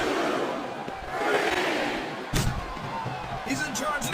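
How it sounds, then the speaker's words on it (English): A heavy pump handle slam in the wrestling video game WWE SmackDown vs Raw 2007 lands with a single thudding impact midway through a steady roaring arena crowd, while commentators talk over the action. "What a devastating pump handle slam."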